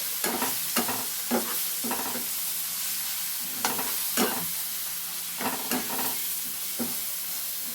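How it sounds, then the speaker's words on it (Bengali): Bhola fish is stirred with chili and turmeric among tomato and onion in a hot oiled pan: repeated scraping strokes come in uneven bursts over a steady close sizzle, with no talking. "এবার এটাকে একটু নাড়াচাড়া করব লঙ্কা হলুদ দিয়ে।"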